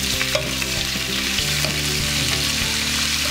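Chopped onions and green chillies fry in a pan with a steady, close, loud sizzle, a continuous crackling hiss broken by occasional stirring clicks.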